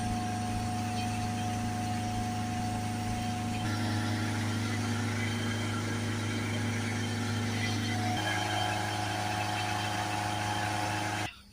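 Mercedes C-Class 2.1 diesel engine running steadily at close range, its tone rising as the revs build, then dropping back to a settled idle with a steady low hum until a sudden stop at the end.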